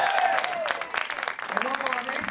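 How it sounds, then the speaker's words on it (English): Brief audience applause for a podcast co-host, scattered clapping mixed with cheering voices and a host speaking over it throughout. "one more round of applause for my co-host"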